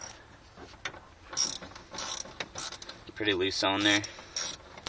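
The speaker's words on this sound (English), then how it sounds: "the 8mm ratchet with a small extension, which is what I'm going to do" An 8mm ratchet on a small extension backs out loose screws during a Walbro fuel pump install, giving a quick rapid clicking run near the end amid handling noise, with a brief spoken remark.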